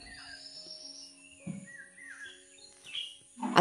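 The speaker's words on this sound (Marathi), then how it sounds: "आज पक्षी खूप ओरडत आहेत ना" Birds call outdoors in the morning near a house, with varied whistled chirps and trills rising and falling, moderately close, plus a few soft knocks and rustles.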